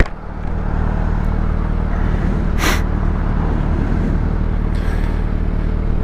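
A Suzuki B-King 1340 cc motorcycle engine roars steadily and loudly throughout, with a brief hiss of air or breath partway through.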